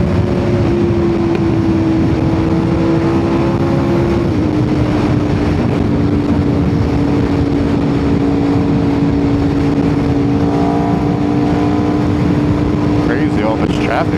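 An Aprilia RSV4 sport bike pulls hard down an incline, its engine droning loud and close in a steady high tone that shifts pitch once partway through, with rushing wind blanketing everything.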